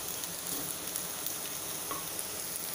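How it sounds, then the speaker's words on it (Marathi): Chopped onion sautéing in a pan, giving a steady close sizzle and crackle of frying oil that holds evenly throughout with no talk over it. "हे बघा 2 मिनिटं इथे कांदा छान परतून झाला आहे। बघा लाल नाही होऊ द्यायचा आहे तो।"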